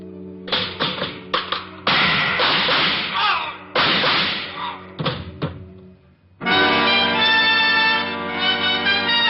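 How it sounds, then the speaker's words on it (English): A sharp thud of a dropped shoe followed by a burst of loud, cracking gunshots and impacts, then a ringing sustained tone after a brief pause. "I dropped the shoe."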